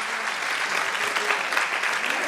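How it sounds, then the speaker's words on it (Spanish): An audience at a flamenco event applauds in a dense, steady burst of clapping that fills the whole moment, even and fairly loud with no talk above it. "un aplauso para ella"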